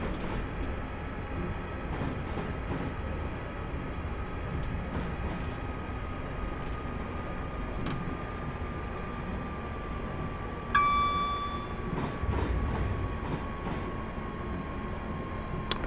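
A Class 350 electric train in Train Simulator 2015, running from Stafford to Rugby, rumbles steadily at speed with a sustained motor whine, a gradually falling tone and occasional clicks and knocks from the track.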